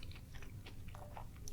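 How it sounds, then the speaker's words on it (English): A bite into a breadcrumbed scotch egg gives a faint, close crunch followed by soft chewing, quiet and alone. "A bit of crunch there you might be able to hear from the"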